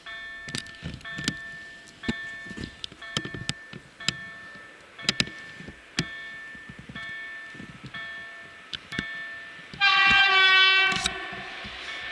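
An IC Gryf passenger train running Szczecin Główny to Olsztyn Główny passes through Dobrocin station: rhythmic wheel clatter over rail joints, then a loud, sustained horn blast near the end, with no talk.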